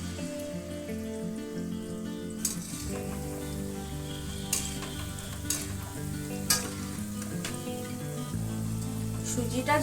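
Palm fritters (taler bora) made with semolina fry in hot white oil in a wok, giving a continuous close sizzle with sharp pops and utensil clicks over a low hum.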